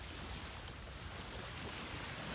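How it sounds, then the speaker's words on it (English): Ocean waves on the shore of Port Phillip Bay on a windy day, a steady loud wash of surf mixed with wind rumbling on the microphone, continuous throughout with no voices. "But look at the ocean, guys. It is vast."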